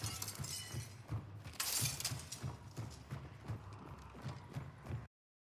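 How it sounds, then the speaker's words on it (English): Footsteps in the Hunt: Showdown video game thud in a steady, quick rhythm, with a sharp crunching, shattering burst partway through. "I think there was a footstep there."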